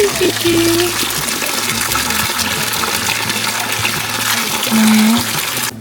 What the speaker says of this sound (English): I'm going to fill up the water.